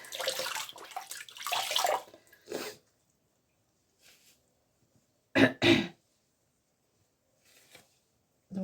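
Water splashes as a face or hair is rinsed during a skincare routine, in dense bursts over the first two seconds, then a few short splashes after a pause, close and fairly loud.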